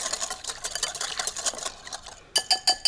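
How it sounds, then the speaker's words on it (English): A whisk clatters quickly against a bowl, mixing a salad dressing of pepper and minced garlic, a fast steady rattling that pauses briefly and then resumes in sharper, louder strokes. "Just whisk it all together."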